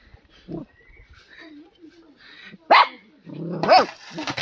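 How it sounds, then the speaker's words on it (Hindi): A tiny puppy on a wheat farm gives two sharp, high yaps close by, with a softer whimper before them and faint rustling in between. "ये देखो कैसे भौंक रहा है"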